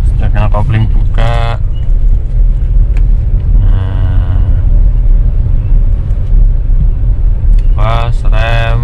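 A manual car pulls away through evening rush-hour traffic in Surabaya, its engine rumbling low and steady throughout while nearby vehicles drone and horns toot briefly; people talk over the engine noise.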